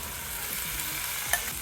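Boiled chickpeas are stirred into a spiced masala gravy, with a soft steady scraping and sizzle from the pan and a couple of sharper spoon knocks near the end, alone with no voices.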